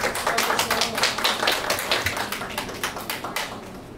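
Audience applause at a Korean traditional music awards ceremony in a small concert hall, a steady patter of many hands clapping at moderate distance for about four seconds with no voices over it.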